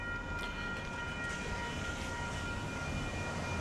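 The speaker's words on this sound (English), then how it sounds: "It is a train." A train passes at a distance, a steady rumbling roll with faint tonal horn-like lines above it, continuous and moderately quiet, with no talking over it.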